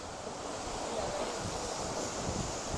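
Roaring rush of a powerful Oregon waterfall plunging into the pool below, a constant, dense wash of water noise with wind buffeting, no voices.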